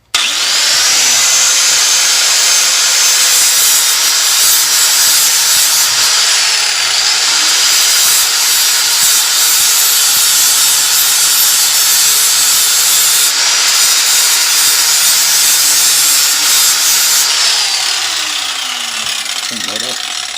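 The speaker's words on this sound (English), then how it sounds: "I'm just shaving it today, I have to come back and hit this with sandpaper" Power tool grinding down a Honda Civic RBC intake manifold, a steady loud abrasive whir running almost unbroken for about twenty seconds with slight shifts in pitch as it bears on the metal.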